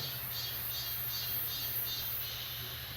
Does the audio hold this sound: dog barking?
no